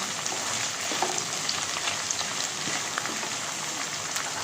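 Ginger garlic paste sizzling and being stirred in a hot pan for a red lentil and sweet pumpkin dish, a steady crackling fry with faint scraping, close and moderately quiet, no talking.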